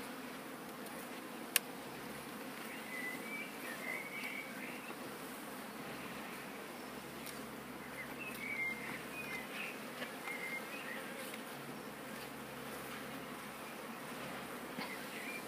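Honey bees swarm around an opened beehive, a dense continuous buzzing drone close by, steady throughout with a faint background rumble.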